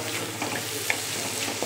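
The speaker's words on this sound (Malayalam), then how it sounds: "എല്ലാം കൂടെ ചേർത്ത് ഇളക്കുവാണേ." Spices being stirred together in a pan while making duck curry, a soft steady sizzle with a few faint scraping clicks of the spoon, close and even throughout, with no talking.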